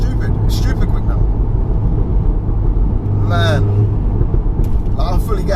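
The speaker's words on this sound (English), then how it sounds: "Just whipping a 500 brake horsepower Golf R now, guys." A 500 bhp Littco stage 3 VW Golf R drives with a heavy steady engine rumble and road drone from inside the cabin, while people talk over it.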